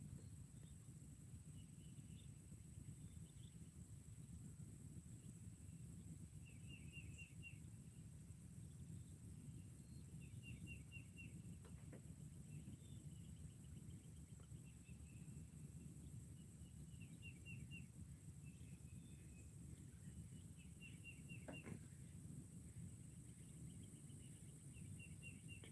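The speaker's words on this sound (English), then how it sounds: "I love listening to the birds when they wake up and everything." Birds sing in the early morning outdoors near water, short repeated chirping phrases, faint and distant over a steady background hum with insect-like buzzing.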